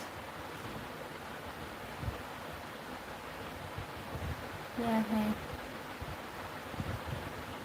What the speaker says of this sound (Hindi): यह है पूर्वा हवा चल रही है, इसीलिए ऐसा होता है